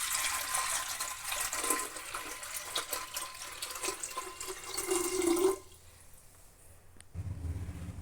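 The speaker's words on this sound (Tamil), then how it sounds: "இப்போது இந்த பானைக்குள்ளே நம்ம தேவையான அளவுக்கு தண்ணி ஊற்றலாம்." Water pours steadily into a clay pot with a broad splashing rush for about five seconds, then stops, leaving faint low rumbling and a soft knock near the end.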